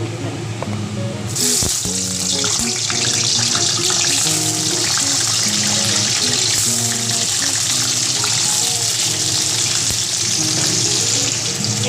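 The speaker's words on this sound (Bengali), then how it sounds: "এখানে আমি দুটো আলুকে ডুম করে কেটে নিয়েছি আলুগুলোকে হালকা ফ্রাই করে নিব" Two diced potatoes fry lightly in oil in a kadai for mutton curry, giving a steady, loud sizzle and crackle that swells after the first second and continues throughout with no talking.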